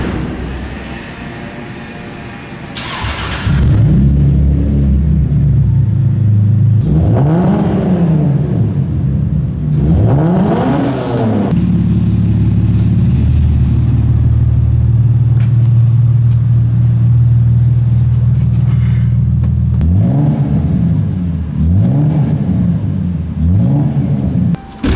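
A 1993 Toyota Supra drives along a road in Korea, its engine revving repeatedly with rising and falling pulls over a steady loud rumble, close and continuous with no talking.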